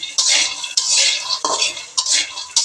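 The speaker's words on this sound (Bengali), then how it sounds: "এখানে হচ্ছে বাদামগুলো আমি এখন ভেজে নেব" Peanuts being fried in a pan with a little oil and stirred, heard up close as repeated loud scraping and rattling strokes in a steady rhythm over a light sizzle, with no talking.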